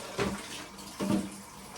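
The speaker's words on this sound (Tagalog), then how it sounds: "Tumutulo na." Two distinct drops of water from a leaking spot splash into a basin about a second apart, close by, over a faint background hiss.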